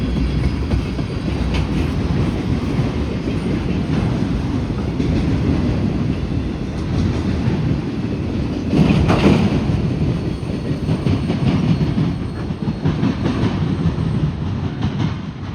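A CPKC freight train rolls past at close range, a loud steady rumble with clickety-clack wheel noise and occasional faint squeal, continuous throughout with no voices.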